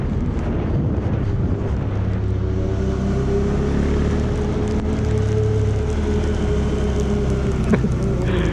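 Rain begins falling during a group Sunday-morning motorcycle ride near Limpakuwus, Purwokerto, a steady wash of drops mixing with the low rumble of the bike and wind noise, continuous and moderately loud with no talk.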